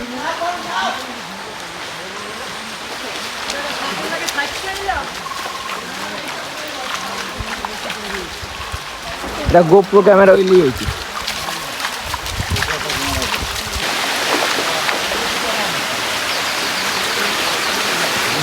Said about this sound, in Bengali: পাহাড়ি ঝিরির মধ্যে আমরা ট্রেল করে কিন্তু চলে যাচ্ছি।